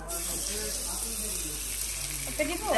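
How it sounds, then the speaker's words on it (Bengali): Fish fries on an outdoor barbecue with a steady, hissing sizzle throughout, a few crackles near the end, and voices talking over it. "এই যে এখন মাছ ভাজি করতে"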